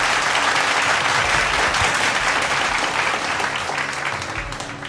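Sustained applause from a school annual day audience as a prize winner of a frog race comes up on stage, dense clapping at steady loudness throughout that fades slightly toward the end.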